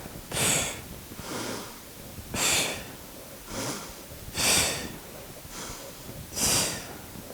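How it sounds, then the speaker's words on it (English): Forceful breaths out during a compressing stretch, seven sharp, breathy bursts about one second apart, close to the mic with no talking. "Exhale as I compress."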